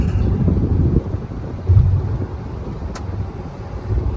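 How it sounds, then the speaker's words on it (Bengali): A car traveling at about 140 km/h on a straight road toward Malbazar makes a steady, close roar of engine and rushing wind, with rumbling road noise and slight swells in loudness. "ওয়াও একশো চল্লিশে গাড়ি চলেছে আমাদের"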